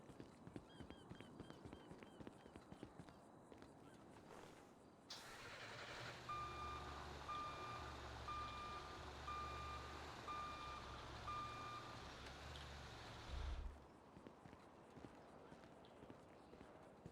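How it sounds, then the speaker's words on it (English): A small tow truck reversing in a roleplay game, its backup alarm sounding a steady series of evenly spaced beeps over engine rumble, then stopping with a short air-brake hiss; engine and road noise surround it. "Another reason why I use the little truck as well is because it beeps, so people can really hear when you're backing up"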